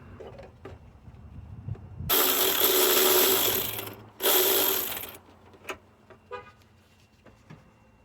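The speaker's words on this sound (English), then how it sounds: "now I'm gonna be taking out the last 10mm bolt there is right beneath the connector of the sensor" Ratchet wrench clicking as the last 10mm bolt beneath a sensor connector comes out on a 2.4 Honda engine, two loud sustained bursts of rapid ratcheting close up, followed by scattered small metallic clicks and taps.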